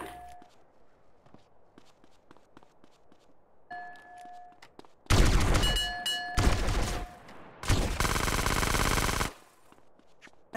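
Quiet footsteps and small tones give way to loud bursts of rapid video game gunfire in two long volleys, then it drops back to quiet.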